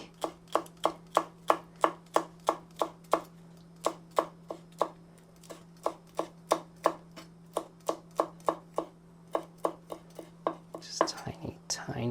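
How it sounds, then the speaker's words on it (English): A knife slicing a few mint leaves very finely on a board for a red fruit salad, a quick even run of about thirty crisp close chops, ending in a brief rustle. "So I take like 3 leaves, not a lot, and then I slice it really finely."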